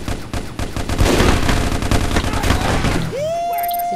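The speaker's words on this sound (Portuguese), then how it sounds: "Ai, tem alguém atirando." Rapid gunfire in the video game Micro Volts, a dense burst of shots lasting about three seconds, followed by a rising synthetic tone.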